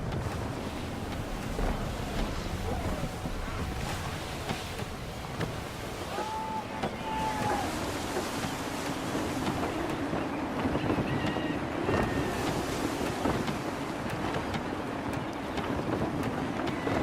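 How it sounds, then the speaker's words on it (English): Gusty sea wind buffets a sailing ship in Assassin's Creed 3 Remastered, a steady roar of wind and surf with waves washing against the hull, loud and continuous throughout with no talk. "Wind looks to be shifting. Stay alert, Connor. Gusty winds can be difficult to manage."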